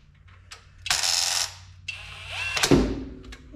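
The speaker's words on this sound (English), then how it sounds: "It's just a little 3/8 impact, and I am not hardly hitting these at all." A small 3/8-inch impact wrench gives short, light whirring bursts while running bolts down on a Buick 455 cylinder head, with metallic clinks between the bursts.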